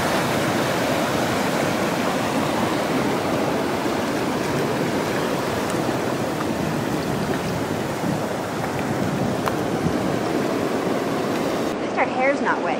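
Ocean waves break and wash over rocky tide pools in a continuous, dense roar of surf and churning water, close and loud throughout, with a few faint voices underneath.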